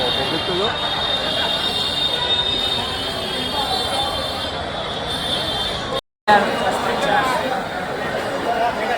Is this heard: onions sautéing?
no